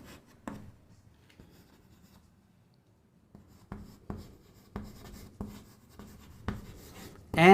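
Chalk or marker strokes on a classroom board during a physics lesson on reflection, a scatter of short scratchy taps that quicken into a steady run of strokes, ending in a louder scrape, with no talk over them.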